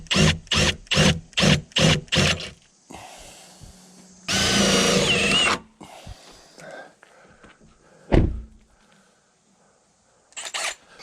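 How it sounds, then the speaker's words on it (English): Power drill on a truck during brake light wiring repairs: a row of short rhythmic whirring bursts, then a longer sustained drilling run, followed by scattered clunks and quieter handling sounds. "We're gonna drill this one"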